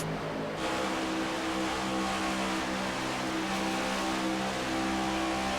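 Onboard race car engine from an AREA Cup Series stock car racing video game at Atlanta, a loud, steady high-revving drone with sustained harmonic whine held throughout, close and continuous.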